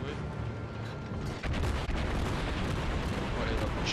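Naval gunfire in the World of Warships video game, dense booming shell blasts in quick succession over a rumbling battle background, loud and continuous for a few seconds.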